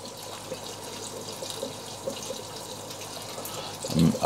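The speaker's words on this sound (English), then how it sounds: "See that the water level hitting the baffles, so that flow is going the way I want it to go." Water flows through a DIY overhead aquarium sump filter, a steady, fairly quiet trickling and splashing over baffles that continues throughout, with a louder gush near the end.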